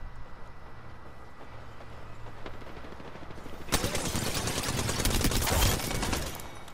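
Dense automatic gunfire in the Apex Legends video game, starting with a low ambient rumble and then erupting into a loud, continuous barrage of rapid shots that keeps on to the end.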